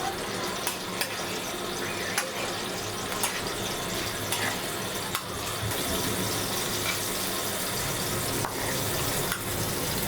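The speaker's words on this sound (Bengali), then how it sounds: "এখন ফ্রাই প্যানটা চুলায় বসিয়ে দিলাম, এরপর দিয়ে দিলাম সয়াবিন তেল, এরপর দিয়ে দিব পেঁয়াজ কুচি" Chopped onion frying in soybean oil in a frying pan, a continuous dense sizzle with occasional sharp clicks and pops, close and steady throughout with no talking.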